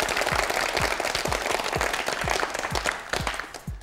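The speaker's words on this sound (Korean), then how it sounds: "박수 보내주세요." Studio audience applause on a Korean language quiz show for a contestant, a dense wash of clapping with a few distinct, rhythmic claps standing out, fading slightly at the end.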